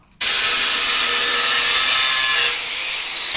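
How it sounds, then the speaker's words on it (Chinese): Angle grinder cutting into a metal ceiling hanger rod starts abruptly and settles into a loud, steady, high-pitched grinding whine close by, easing slightly near the end, with no talk. "一个手抓角磨机，你抓不稳的话，一定要双手去抓"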